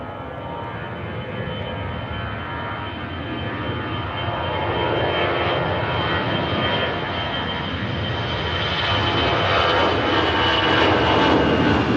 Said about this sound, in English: A320 departure there.